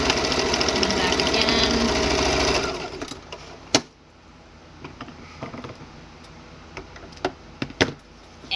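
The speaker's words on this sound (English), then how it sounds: "we are going to do a quick run down stitch, back, forward, and then back" A sewing machine stitching a purse strap runs loud and steady for a few seconds, then stops, followed by scattered clicks and knocks of handling the fabric and machine, close and with no talk.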